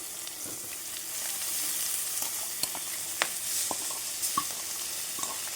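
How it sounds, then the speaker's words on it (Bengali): Pond prawns with salt, turmeric and chili powder fry lightly in a pan, giving a steady, soft sizzle. Small pops and occasional clinks of stirring rise above it, with no voices. "এটা একটু ভেজে নেব খুব হালকা করে ভাজবো বেশি ভাজবো না"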